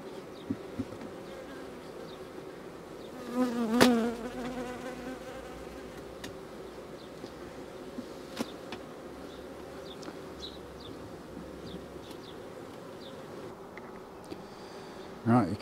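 Honey bees buzzing around an open hive during an inspection of brood frames, a soft steady drone with a few louder bees passing close by, fairly faint throughout.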